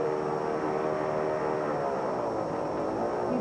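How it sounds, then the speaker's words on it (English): An airboat engine runs steadily with a loud, droning propeller roar and a hum that shifts slightly in pitch, continuous and close, with no talk. "that was an airboat ride"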